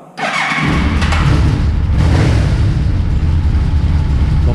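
A Yamaha Vmax 1200 motorcycle engine, still cold and on manual choke, cranks and fires quickly, then settles into a loud, steady, throbbing idle that holds close and unbroken.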